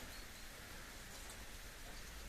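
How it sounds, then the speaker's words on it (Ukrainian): A light, warm rain falls outdoors with a faint, soft, steady patter and hiss. The sound stays quiet and even throughout, with no one talking. "Зараз іде невеличкий дощик"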